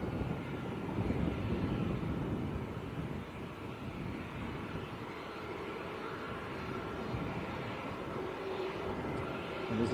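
A Pegasus airliner arriving from Istanbul rumbles steadily as a low, broad roar at moderate distance, with some wind noise across the whole stretch and no talking.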